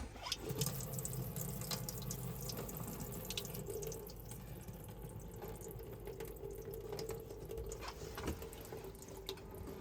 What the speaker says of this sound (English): make sure the pump's on there and you get a pressurized flow of water there